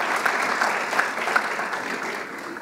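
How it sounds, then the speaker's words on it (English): Audience applause for panelists at a finance conference, an even, moderately loud patter of many hands clapping that fades slightly toward the end. "A round of applause for my panelists, please."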